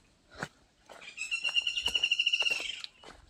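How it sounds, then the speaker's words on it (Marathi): A bird calls nearby in a quick, rapidly repeated chirping trill lasting over a second, with a few short chirps before it in a quiet outdoor village setting in Konkan. "गावाकडे अनेक पक्ष्यांचे आवाज ऐकायला येतील"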